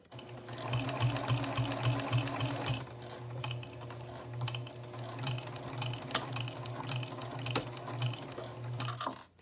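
A sewing machine stitches a vinyl project bag with a backstitch, a close, steady mechanical whir and rapid ticking of the needle running almost continuously with a brief pause.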